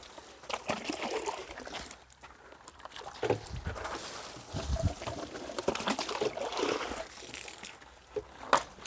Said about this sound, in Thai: น้ำสาดเลยครับ